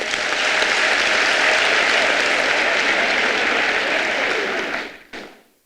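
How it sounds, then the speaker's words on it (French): A large audience at a political speech by the newly elected party president applauds in a loud, continuous roar of clapping that holds for about five seconds, then cuts off abruptly with a brief tail. "Applaudissons-les."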